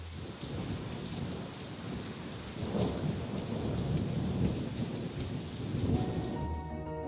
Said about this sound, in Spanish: Y sobrecogedores cuando suena la tormenta.